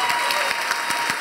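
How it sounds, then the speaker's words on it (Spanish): Audience applause at a lively, informal gathering, a dense wash of many hands clapping steadily and fairly close, with no one speaking over it. "Bueno, entonces un aplauso para el chico burgomaestre."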